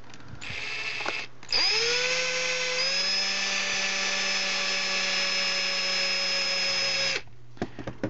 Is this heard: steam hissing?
no